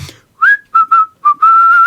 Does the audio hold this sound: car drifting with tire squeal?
no